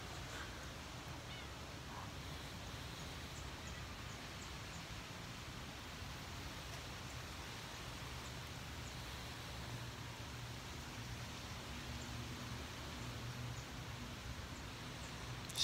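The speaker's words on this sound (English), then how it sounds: "Starting to rain now." Steady rain begins falling during a thunderstorm in Hamilton, Ohio, a dense, even hiss that fills the whole stretch at a constant level with no voices over it.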